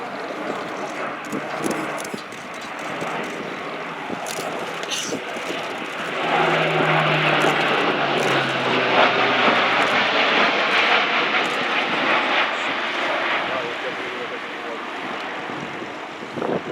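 An Airbus A400M Atlas turboprop military transport performs a flying display at an airshow, its loud engine roar sustained and swelling as it banks hard overhead, with wind noise on the microphone.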